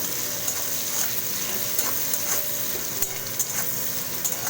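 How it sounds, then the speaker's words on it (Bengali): Bitter gourd sizzles steadily in a pan, a bright crackling hiss with small pops and faint stirring taps, heard up close without talk. "উচ্ছেটাকে ভালো করে ভাজা ভাজা করে নেব"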